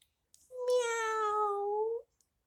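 A person's voice imitates a cat's meow during a children's story time, one drawn-out, clear tonal meow lasting about a second and a half, close and loud with no other talk around it.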